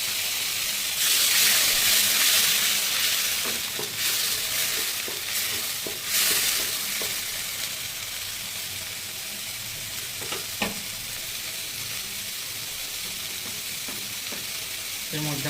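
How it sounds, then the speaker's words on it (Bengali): Water hits a hot pan of egg curry masala with a loud hissing sizzle that slowly settles into steady frying while a spoon stirs and scrapes, close up. "এখন আমরা এর মধ্যে অল্প জল দিয়ে দেবো।"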